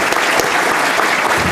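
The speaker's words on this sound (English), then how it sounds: "Let's have a round of applause for Mr." Audience applause for a panelist at a print-media discussion event, a loud, even burst of many people clapping that fills the whole moment.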